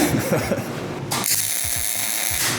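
A big blue welder in a workshop corner switches on at about the one-second mark and settles into a steady electrical hum and buzz, with a few low thumps and clatter beneath it.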